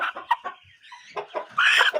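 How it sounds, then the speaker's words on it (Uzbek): A young Shamo rooster, a grey Kül Shamo cockerel about three months old, gives a quick series of short clucks and throaty calls close by, ending in a louder, harsher squawk. "Kül Şamı o'ta baquvvat xo'roz."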